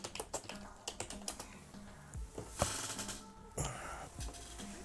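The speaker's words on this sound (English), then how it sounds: "He's typing as fast as he can." Someone types rapidly on a computer keyboard, bursts of crisp clicking keystrokes in quick irregular runs, close and fairly quiet, with faint breathy sounds and a soft murmur in the background.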